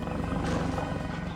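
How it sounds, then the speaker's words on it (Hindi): A tiger and a leopard roar while they fight, a loud, dense and continuous rumble that fills the whole moment without any talk. "लगता है बाघ और तेंदुआ आपस में लड़ रहे हैं।"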